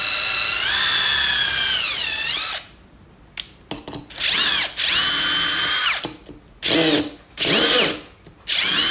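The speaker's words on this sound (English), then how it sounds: "I'm gonna use the countersink bit. I'm just not gonna go down all the way with the countersink bit" A power drill fitted with a countersink bit bores a hole, starting with a long whining run as the motor revs and bites, then several shorter bursts and stops of the motor, loud and close.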